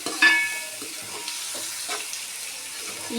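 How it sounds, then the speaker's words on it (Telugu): Food stirred in hot oil in a home kitchen pan, for a chicken curry with broad beans: a soft, steady sizzle with quiet scraping stirs. It is close and fairly faint. "అబ్బా ఆయిల్ మంచి మంచిగా హీట్ అయింది ఒకసారి అలా ఇలా కలుపుకుందాం"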